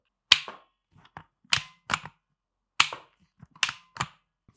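A wooden M40-style rubber band sniper rifle fires in a series of sharp, dry snaps, several distinct shots with quiet gaps and small mechanical clicks between them, close and alone.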